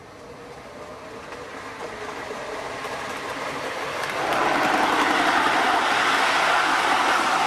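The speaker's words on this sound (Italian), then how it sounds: "Treno in transito al binario 1." A model train passes through a station on a Ponte nelle Alpi model railway layout, its rolling rumble building steadily and growing louder about halfway through as it draws close, with no talk.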